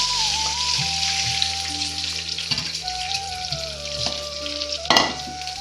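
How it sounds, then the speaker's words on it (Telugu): A rasam tempering sizzles steadily in hot oil in a steel pot, with a continuous close crackle and a few sharper pops, and no talking. "ఇదిగోనండి చారు తాలింపు వేసేసుకుంటున్నాను"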